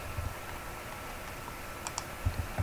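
Soft clicks of a computer keyboard as a Control X shortcut is pressed during spreadsheet work, a few quiet, sparse taps clustered near the end over faint room noise.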